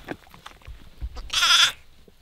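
A sheep on a farm during the lambing season gives a loud, close, quavering bleat near the end, preceded by faint shuffling and soft thumps.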